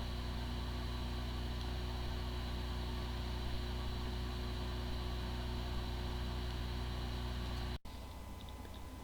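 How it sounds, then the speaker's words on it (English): A Seagate hard drive with firmware corruption spins up and runs on its own, giving a steady, even hum and whir with a constant tone that cuts off abruptly near the end. "following is the sound from one of the hard drive which experienced disk firmware corruption"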